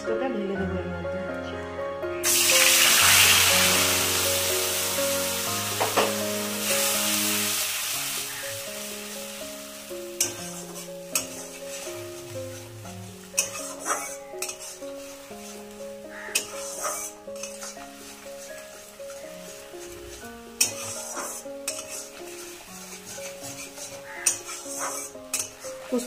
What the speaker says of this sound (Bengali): এবার আমি এই পোস্তটা ঢেলে দেবো এর মধ্যে